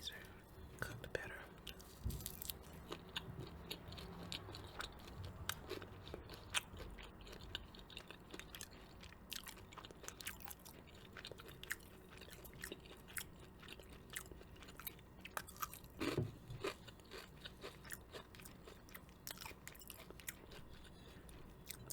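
Fried fish coated in a fish fry mix being bitten and chewed up close, with soft wet crunches and mouth sounds repeating through the clip, plus some brief whispering.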